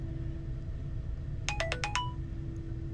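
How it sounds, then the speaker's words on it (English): WhatsApp group message notification, a quick burst of about five bright chime pips lasting half a second, faint over a steady low background hum. "So now, only for this group will I get a sound when there are new messages in that group."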